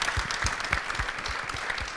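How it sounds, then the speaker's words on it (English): An audience applauds panelists at a panel discussion, a steady patter of many hands clapping close by, sustained through the moment without talk. "I also want us to give another round of applause to the panelists today"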